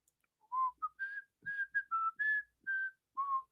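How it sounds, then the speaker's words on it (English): A person whistles a tune alone, clear and close, in a string of short and sustained notes with a steady melodic rhythm. "I got that whistle song in my head here."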